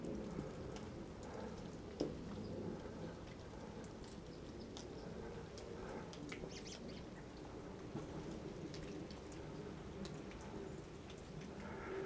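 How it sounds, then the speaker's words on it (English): Steady rain pattering down across a cemetery, a dense even hiss with scattered individual drops, continuous and moderately loud with no voices. "It just started raining again."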